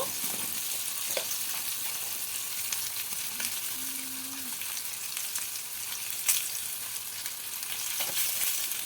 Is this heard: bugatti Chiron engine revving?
no